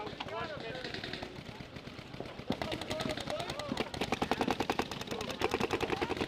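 Planet Eclipse Etha 2 paintball markers fire in quick, rapid bursts during a gameplay battle outdoors, the sharp popping shots running close and fast while a player talks and shouts over them.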